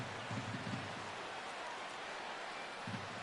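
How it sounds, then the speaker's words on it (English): Steady rain hiss from a rainy ballpark in the baseball video game MLB The Show 16, a constant wash of noise under the whole stretch with a few low murmurs of crowd or voice. "EK, how'd you like playing in the rain"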